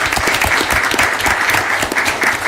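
Loud, close applause from attendees at a board meeting, dense continuous clapping for the whole moment.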